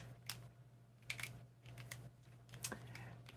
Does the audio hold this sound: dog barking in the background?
no